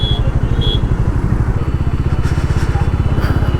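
A motorcycle engine idles and putters close by with a rapid, steady thumping beat, set in busy traffic with a faint horn in the background.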